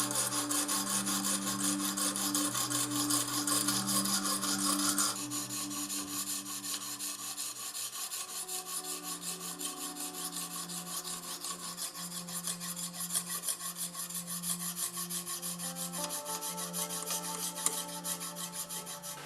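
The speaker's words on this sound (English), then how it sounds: "I chose to use the Lansky sharpening system" A Kershaw Blur knife blade is honed on a Lansky sharpening system, giving a continuous close rasping and rubbing of stone on steel that runs for the whole stretch with no talking.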